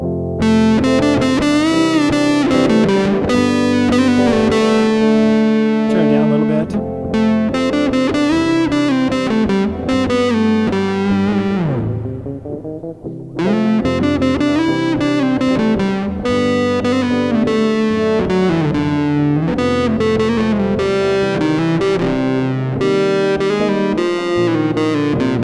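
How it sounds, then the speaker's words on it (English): An electric guitar plays sustained, heavily distorted chords with a gritty, buzzing tone, pausing briefly for a descending slide before resuming. "I don't really love that distortion sound on there."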